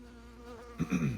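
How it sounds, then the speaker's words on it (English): A bee buzzing close to a phone held inside a VW Beetle, a brief droning hum that grows louder near the end as the insect passes by the lens. "If you guys see a bee go across the lens"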